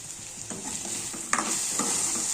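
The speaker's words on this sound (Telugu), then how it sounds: "ఇప్పుడు బెండకాయ అనేది బాగా ఫ్రై అయిపోయింది" Sliced okra fries in a pan with a constant crackling sizzle, broken by a few scraping stirs and one sharp clatter partway through, with no voices.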